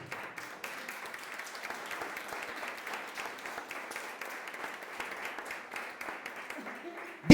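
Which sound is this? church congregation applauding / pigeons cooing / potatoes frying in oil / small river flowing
church congregation applauding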